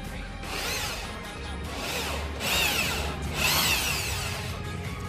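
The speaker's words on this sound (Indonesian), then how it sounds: "kalau sudah terbor baru kita pasang bautnya" A power drill bores holes for bolts during assembly, giving a close, loud, continuous whir whose pitch rises and falls over about five seconds, with no talking.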